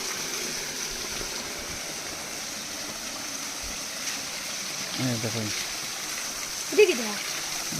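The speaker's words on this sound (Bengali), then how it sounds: "আর ওইদিকে আপনার ফাউন্টেন ওই দেখুন" A garden fountain recirculating filtered water gives a steady broadband splash and trickle throughout, with a few faint voiced sounds and a brief louder knock near the end.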